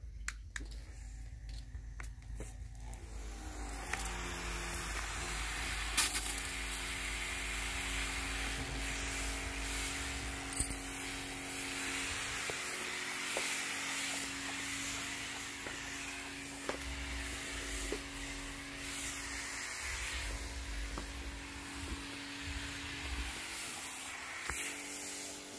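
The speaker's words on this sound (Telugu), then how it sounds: "మన దగ్గర కూరగాయ మొక్కలు అన్నట్టుకి ఈ విధంగా స్ప్రే చేసుకోవచ్చు." A light handheld sprayer mists vegetable plants in a backyard garden, giving a steady, close hiss over a low continuous hum that lasts throughout, with a few faint clicks and no talking.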